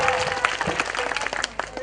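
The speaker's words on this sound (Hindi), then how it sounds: "जोरदार ताली से स्वागत कर" Applause welcomes a guest taking a seat at a municipal ceremony in Godaita, Sarlahi; a dense, steady wash of clapping fills the moment, with some voices mixed in.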